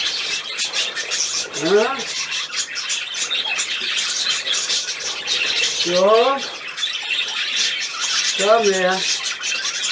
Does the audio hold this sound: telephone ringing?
no